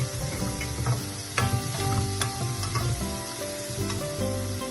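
Chopped tomatoes frying in a pan for bharta, a dense, loud sizzle that continues steadily, mixed with clinks and scrapes of stirring and some faint tonal background sound, no talking.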